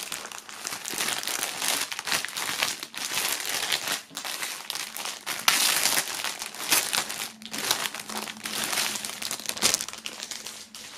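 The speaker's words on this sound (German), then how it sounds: "nachdem hier diverse Sachen noch in Folie sind, holen wir die mal raus" A band shirt pulled out of plastic foil packaging from a music box set, giving continuous loud, close crinkling and rustling of the foil for the whole stretch, no speech.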